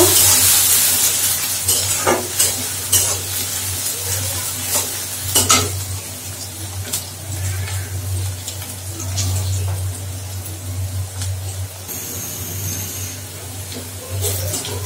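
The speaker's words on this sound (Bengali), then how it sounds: "পেঁয়াজটা ভাজা হয়ে গেছে" Chopped onion and crushed garlic fry in a pan with a steady sizzle while a spoon stirs and scrapes, knocking against the metal over and over, close and fairly loud, with a low hum underneath.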